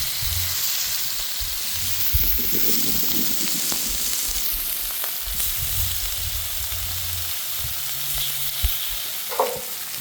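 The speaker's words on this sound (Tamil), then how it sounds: "2 மணி நேரம் நல்லா ஊறின மீனை எடுத்து வந்து சேர்த்துக்கிறோண்ணே. வறுத்து எடுக்க போகிறோம்." Marinated fish, soaked for two hours, shallow-frying in sesame oil at a dam-side fish stall, a steady close sizzle with scattered stirring and scraping clinks throughout.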